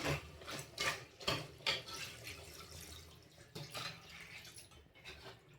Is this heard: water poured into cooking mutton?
yes